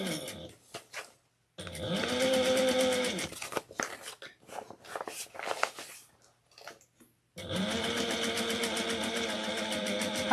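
A sewing machine back stitching a seam on a handmade tote bag runs in two steady, fairly loud bursts, with short stop-start stitching and handling noises in the pause between.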